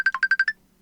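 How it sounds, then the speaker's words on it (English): Incoming Facebook call ringtone, six quick bright electronic chimes in an even rapid pulse, clear and close, ending abruptly into near silence. "we got a phone call coming through, Pete, through Facebook."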